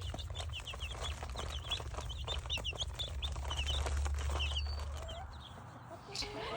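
Backyard hens cluck in a steady run of short, chattering calls close by, with a low hum underneath and a quieter stretch near the end.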